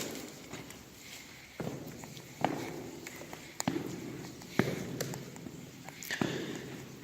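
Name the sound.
footsteps echoing in abandoned train tunnel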